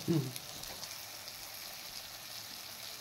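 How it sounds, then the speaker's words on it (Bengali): A spice paste with tomato fries in a pan, giving a soft, even sizzle close by, preceded by a brief low bump at the start, with no voices. "মশলাটা ভালো করে কষিয়ে নেওয়া হচ্ছে"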